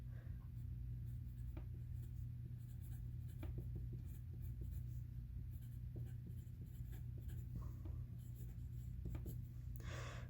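A medium-nib fountain pen glides across paper in soft, continuous scratchy strokes, faint and close against a steady low background hum, with no speech.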